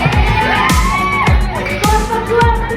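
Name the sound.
group cheering and applause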